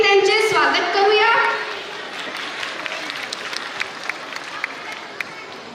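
Audience applause at a school annual cultural festival, welcoming class 3 students performing a farmer dance; steady clapping from a crowd fills the hall, starting strong under a voice and then continuing at a lower, even level.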